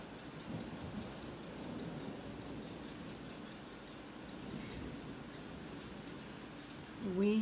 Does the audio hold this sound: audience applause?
no